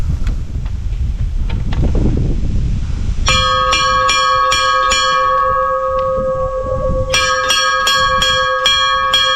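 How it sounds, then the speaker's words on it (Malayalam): Church bells peal from a pilgrimage bell tower on the route to Thekkan Kurishumala, a rhythmic series of bright metallic strikes in two bursts over gusting wind noise, with no talking. "നമ്മുടെ തെക്കൻ കുരിശുമല തീർത്ഥാടനത്തിന് ഇടയ്ക്ക് വരുന്ന ബെൽ ടവറാണേ"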